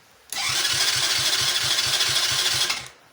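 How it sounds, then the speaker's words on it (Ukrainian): A 125cc quad bike with suspected valve clearance trouble is cranked, the starter chugging in a rapid steady rhythm for over two seconds before stopping; loud and close, with no speech. "давайте спробуємо без компресометра крутанути, якщо воно щось дало"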